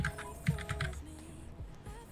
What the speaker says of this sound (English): Oh, sorry, I was typing to someone else.